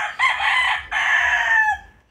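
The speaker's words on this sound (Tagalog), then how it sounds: "ito na rinig nyo, mga huni ng mga manok" A rooster crows loudly and close by, two drawn-out calls in quick succession with hens clucking faintly underneath.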